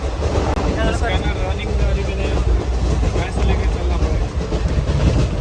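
A train in Kozhikode rumbles steadily nearby with a constant low roar and faint rhythmic clatter, continuous throughout.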